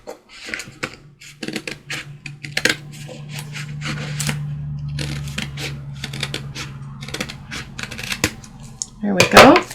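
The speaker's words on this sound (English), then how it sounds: "So we can now cut off at this line. I know this is off camera, but I'm just going to slice that off." A blade slicing through a soft journal cover along a scored line, with a series of short crisp cuts and scrapes and a low hum underneath, ending in a louder rustle.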